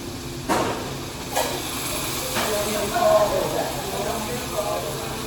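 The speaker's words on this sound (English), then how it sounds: "you're reducing that lovely wine into equation" Wine reduces and simmers in a hot pan during a pasta cooking class aboard the Carnival Celebration cruise ship, a steady broad hiss with a few louder surges, while a voice talks over it.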